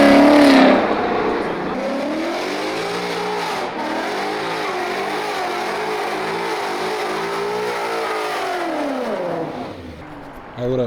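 A car with a muffler delete revs loudly at a street car meet, a raw, raspy engine note climbing and falling in long sweeps, close by, before dropping away at the end.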